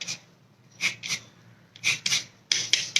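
Lemon zest is grated in short raspy bursts, several quick rubbing strokes close up with brief pauses between them.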